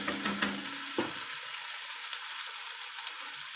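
Fish curry frying in a pan with added tomato gets stirred, giving a few scraping knocks at the start, then a soft, steady sizzle close by and fairly quiet, with no talking.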